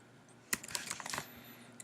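A burst of quick typing on a computer keyboard, with a sharp first keystroke followed by a rapid irregular run of clicks and then quiet.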